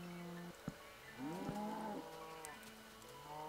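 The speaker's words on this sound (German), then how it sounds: "Geh weg, Kuh." A cow in the Minecraft video game moos in drawn-out low tones, with a couple of short clicks from gameplay and a further moo starting at the end.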